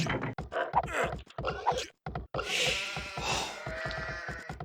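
Several sheep bleats from Age of Empires 2 come in quick succession, some choppy and clipped, then longer wavering bleats overlapping, fairly close and loud.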